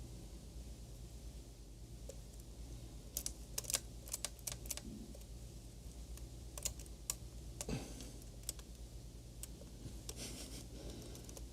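A 1935 IBM Model 01 typewriter under repair being typed on, with scattered sharp key strikes in short bursts over a quiet steady hum, close and crisp.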